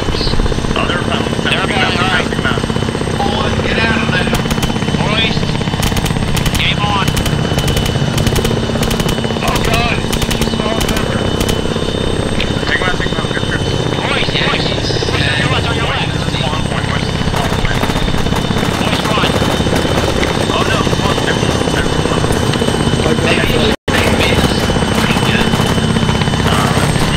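Helicopters hover and land in the ArmA 3 combat game, their rotor drone loud and continuous throughout, with a voice talking over it and occasional bursts of distant gunfire.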